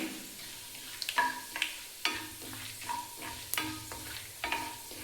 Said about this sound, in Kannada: 1 ಟೀ ಸ್ಪೂನಷ್ಟು ಉದ್ದಿನಬೇಳೆ, 1 ಟೀ ಸ್ಪೂನ್ ಕಡಲೆಬೇಳೆ, ಇದೆಲ್ಲ ಹಾಕಿ ಸ್ವಲ್ಪ ಕಲರ್ ಚೇಂಜ್ ಆಗೋವರೆಗೂ ಫ್ರೈ ಮಾಡ್ಕೊಳ್ಳೋಣ